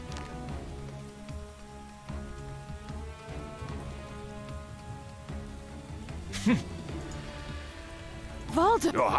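Rain falling in the video game Wargroove, a steady patter of drops on surfaces under a game music bed with occasional sharp effects, while someone talks over it.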